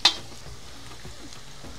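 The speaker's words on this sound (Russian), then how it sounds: "обжариваем с лучком примерно минутки 3 тоже" Onions frying in a kazan over a campfire, with a sharp scrape of stirring at the start, then a steady low sizzle and soft clatter.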